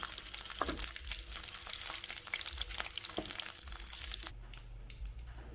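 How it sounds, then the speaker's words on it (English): Fish frying in a pan over low heat at a simple rural Vietnamese cooking setup, a steady close crackling sizzle with brief stirring clicks, no voices. "When frying fish, remember to use low heat because they can burn very easily."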